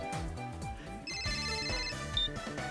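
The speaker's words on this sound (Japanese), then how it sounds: "電話がかかってきてる。" Telephone ringing in the baseball video game Power Pros 2017, a repeating electronic ringtone over background game music, sounding for a few seconds with no talk.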